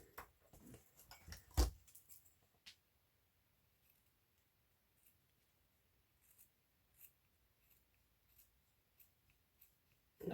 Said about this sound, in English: not the greatest scissors